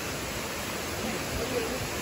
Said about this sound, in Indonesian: saya dah sampai di air terjun yang terakhir